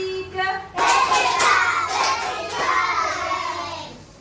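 Children in an Indonesian primary school class perform a rhythmic clap in a reading-corner lesson. A voice leads briefly, then a burst of group claps follows, mixed with chanting, close and fairly loud.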